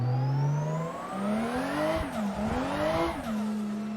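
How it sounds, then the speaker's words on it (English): A car drifting in the racing game Assetto Corsa, its engine revving up and down as the throttle is pumped through a corner, with tire squeal, loud and continuous. "go off the accelerator, and then come back on the accelerator to try and maintain the drift"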